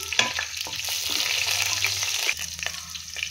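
Seeded green chillies dropped into hot spiced oil for country-chicken biryani, a loud steady close sizzle with brief stirring clatters and a short dip partway through.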